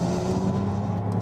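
Mercedes EQE 500 4Matic electric SUV accelerating onto a highway, a steady low synthetic drive hum with road and wind noise heard from inside the cabin, fairly loud and continuous.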